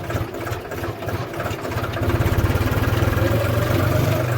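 A large tractor's heavy diesel engine idles close by, a low throbbing rumble that grows steadier and more rhythmic halfway through.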